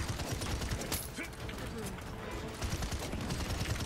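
Sniper gunfire in a shooter video game: a single sharp crack stands out near the start against dense, continuous game noise and chatter.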